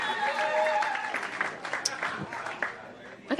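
An audience at a stand-up comedy show applauding the DJ, a crowd of clapping and cheering that gradually thins out, with voices talking over it.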